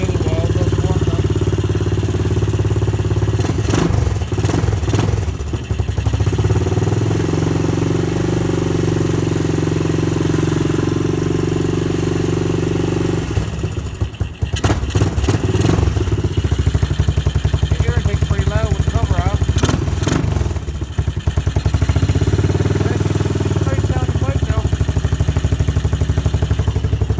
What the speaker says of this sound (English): Hold the throttle for a little while, let it warm up.